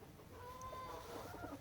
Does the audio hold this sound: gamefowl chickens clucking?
yes